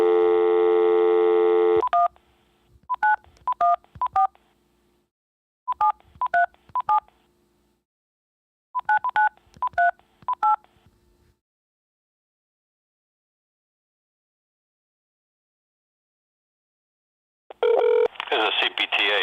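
A telephone dials a Westchester County, New York number: a steady line tone, then three quick clusters of touch-tone beeps separated by silence, and a burst of call tones at the end, with no talking.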